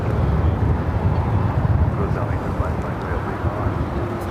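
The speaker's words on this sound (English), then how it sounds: "Delta Airlines Flight 898 coming in from Atlanta, A350-900 going around the ATC tower" A Delta Airbus A350-900 airliner goes around at LAX, giving a steady, broad jet roar that stays loud and unbroken throughout, with some wind buffeting.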